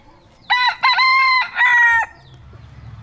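A rooster crows loudly and close in one drawn-out call with a brief break, among chickens roaming freely at a roadside stop on Oahu, followed by soft farmyard clucking in the background.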